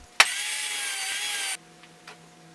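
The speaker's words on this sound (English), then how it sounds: "I cut the top and bottom and drilled pocket holes in each end." A power drill bores pocket holes into the ends of wooden frame pieces, a loud high-pitched whir lasting just over a second that starts abruptly and cuts off, followed by faint handling noises.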